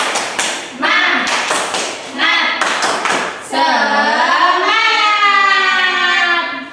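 A group of children clap the tepuk semangat rhythm in a classroom, with sharp, patterned bursts of hand claps and rhythmic chanting; voices join in, and a long sustained cheer follows.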